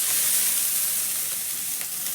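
Chopped onion and green chili fry in a pan and are stirred, producing a continuous, close, bright hiss and sizzle with faint scraping and no talk.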